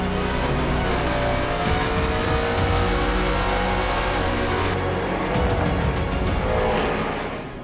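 Drag race car number 80 accelerating hard down the strip at a televised drag racing event, a loud, sustained engine roar with rising pitch that fills the whole stretch without a break.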